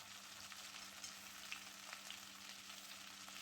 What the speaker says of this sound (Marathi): आता ही कांदा टोमॅटोची प्युरी घालते.